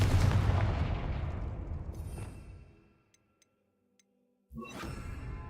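A Confringo blasting spell goes off in a Harry Potter video game as a loud, rumbling explosion that fades away over a few seconds. Brief silence with faint ticks follows, then a second blast bursts in.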